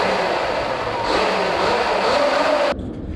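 Sur-Ron electric dirt bike motor run through a Nucular P24F controller, given a touch of throttle: a loud, steady whine rises in pitch for under three seconds, then cuts off abruptly into near silence.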